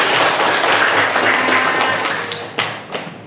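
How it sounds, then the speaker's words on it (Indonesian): Classroom audience applause, a dense steady patter of many hands clapping that fades out, followed by a few louder isolated claps or taps at the end. "Tepuk tangan lagi sekali lagi."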